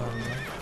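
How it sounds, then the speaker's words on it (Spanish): A white horse whinnies in the video game Shadow of the Colossus, a brief, loud, wavering neigh heard close and alone without speech. "Caballos, un caballo blanco."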